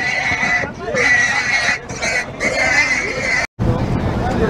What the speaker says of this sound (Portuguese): Aqui pessoal, mais outros porcos aqui.